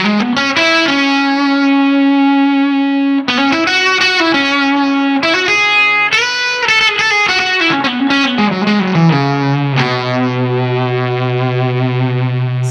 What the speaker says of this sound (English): a creamy fuzz without being too over the top, fuzzy, gnarly kind of sound